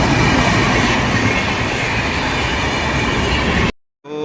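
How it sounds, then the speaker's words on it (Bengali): A Janshatabdi Express train rushes past at close range, a loud continuous roar of wheels and carriages that cuts off abruptly near the end. "এই যে এখন জনশতাব্দী এক্সপ্রেস ক্রস করছে"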